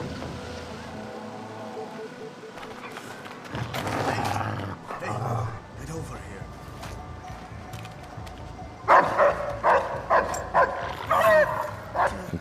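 Dogs bark in the stealth video game Splinter Cell Blacklist, sharp barks and yips breaking out in bursts over a low, windy game ambience.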